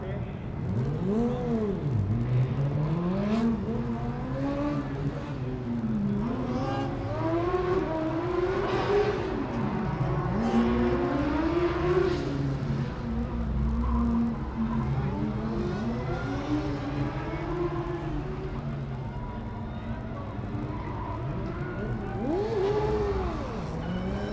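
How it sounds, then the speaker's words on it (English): Formula Student race cars, including an electric entry, run an autocross track at FSG 2012, with engines revving up and down in rapid repeated sweeps, loud and continuous, while a commentator talks over them throughout. "And we've still got Dresden and the electric car out on track here."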